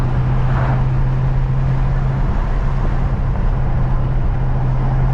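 Steady loud wind roar rushing through the open windows of a 2020 Dodge Challenger Scat Pack Widebody while driving, with a constant low engine hum beneath and no talking.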